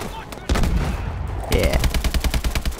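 Rapid automatic gunfire in the video game Call of Duty Advanced Warfare, with dense bursts of close, loud shots that pause briefly and then resume in a fast rhythmic stream.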